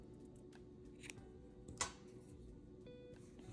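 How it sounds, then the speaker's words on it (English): Scissors snip through yarn during a crochet project, a few faint, quick cuts close by against a quiet room background. "Then you can cut your yarn"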